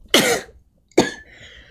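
Two harsh coughs, close and loud, separated by a short pause, the second trailing off into a faint rasp.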